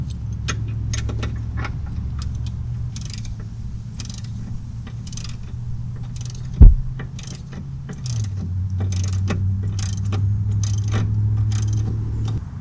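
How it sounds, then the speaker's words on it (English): Steady mechanical clicking and ratcheting from a wrench loosening a suspension nut on a car with a clunking fault, close and moderately loud over a low hum, with a sharp knock partway through. "So let me loosen that nut."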